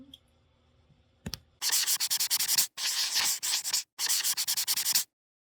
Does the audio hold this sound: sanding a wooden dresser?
yes